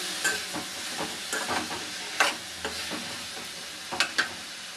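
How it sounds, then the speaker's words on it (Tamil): Banana stem stir-fry tossed with salt in a pan, giving soft scraping stirs and light sizzling with a few sharper clinks of the spatula against the pan, close and steady. "தேவையான அளவு உப்பு போட்டுக்கலாம். பட்டா இது போட்டு நல்லா மிக்ஸ் பண்ணிக்கலாம்."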